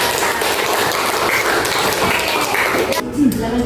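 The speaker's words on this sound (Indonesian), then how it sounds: "Tepuk tangan untuk kedua teman kalian." Classroom applause from pupils clapping for two classmates, continuous loud clapping that ends abruptly near the end, followed by a brief voice.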